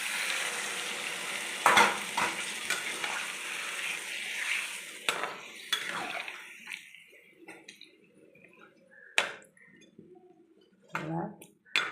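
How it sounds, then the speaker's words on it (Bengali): Water is poured into a pan of frying pointed gourd and shrimp curry, raising a burst of sizzling and bubbling with stirring clatter, the hiss fading to quieter simmering and occasional utensil knocks. "এবার আমি জল দিয়ে দেবো।"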